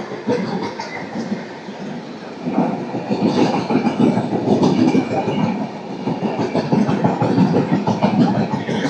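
The 16850 Rameshwaram to Tiruchchirappalli Express passes on the Pamban bridge, a loud steady rumble with rhythmic wheel clatter that swells after the first few seconds and continues throughout, no talking.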